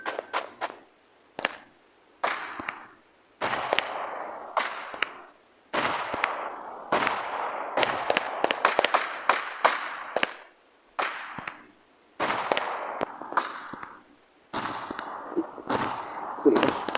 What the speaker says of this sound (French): je parle pas pendant qu'il y a l'effet d'artifice